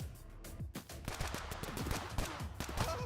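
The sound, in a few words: gunshots killing a player in the video game Bullet League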